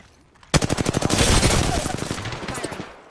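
A rapid burst of automatic gunfire in the Apex Legends video game, a fast rattling string of shots lasting a few seconds after a brief quiet start.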